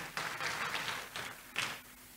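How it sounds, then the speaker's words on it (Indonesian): A church congregation applauds during a sermon, a steady wash of clapping with a few louder surges over about two seconds, moderately near and without voices. "Boleh tepuk tangan yang meriah buat Tuhan Yesus."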